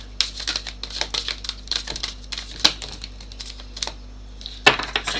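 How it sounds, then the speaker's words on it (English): Tarot cards are shuffled close up in a series of quick, crisp riffles and flicks, irregular bursts of papery crackling with short pauses between them. "I want another shuffle for Ashley."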